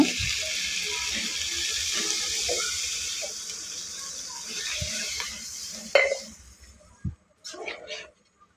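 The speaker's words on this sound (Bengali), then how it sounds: "জলটা দিয়ে নিলাম" Water is poured into a pan of simmering fish curry, a steady splashing pour that tapers off, followed by a few clinks of utensils and quieter sounds, with a voice talking in the background.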